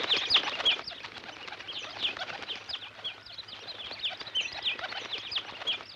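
Repeated short bird calls, chirps and coos in a 1984 animated series, scattered throughout over steady background noise, fairly close and moderately loud.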